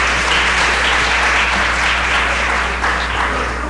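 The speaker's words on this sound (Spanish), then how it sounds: "Les voy a pedir un aplauso para todos los compañeros del CIEI que elaboraron estos estudios." Sustained applause from an audience at a university event honoring research colleagues, a dense, steady wash of clapping that stays loud and even throughout without breaks.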